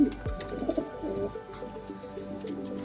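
Racing pigeons around a loft, soft throaty cooing from a nearby bird at the start, with faint chirps and outdoor background noise continuing after it.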